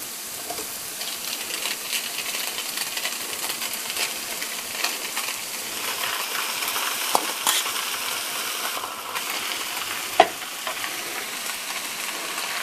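Homemade noodles tossed and stir-fried with vegetables in a pan, a steady soft sizzle under scraping and stirring, with a sharp clink near the end.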